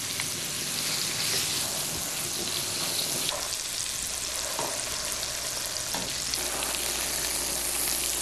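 Leeks fry in roughly equal parts oil and butter, giving an even, moderately loud sizzle with occasional light pops and a few soft clicks of a utensil against the pan.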